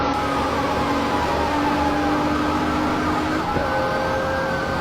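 A police siren wails steadily close by, its pitch sliding in long sweeps with a shift in tone near the end, over a constant roar of traffic.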